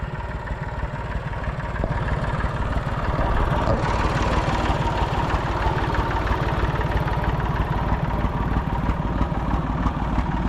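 Tractor engine driving a flail mower in a hay field, a steady loud mechanical drone running without pause from start to finish, no voices.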